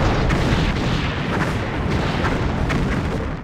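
Explosion of a destroyed sensor post in the Star Trek Bridge Commander video game, a loud continuous rumbling blast with a few sharper booms over about three seconds.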